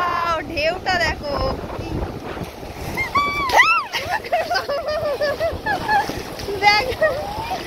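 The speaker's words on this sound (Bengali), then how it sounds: "শো করে আওয়াজটা আসছে দেখো, ওয়াও ঢেউটা দেখো" Sea waves and wind at Bakkhali beach, with gusty wind buffeting the microphone and surf rushing in washes, while voices talk over it, loud and near.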